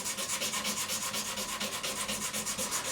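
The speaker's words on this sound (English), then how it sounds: "wetting the back of my finger helps me to grip sandpaper better." Sandpaper is rubbed by hand over an aluminium part on a Fender Stratocaster, making rapid, even back-and-forth scratchy strokes close by, about six per second, with no one speaking.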